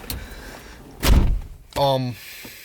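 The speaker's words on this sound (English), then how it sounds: "I'm gonna close this door" A single solid car door thud lands, followed shortly by a brief electronic chime; otherwise quiet apart from faint background noise.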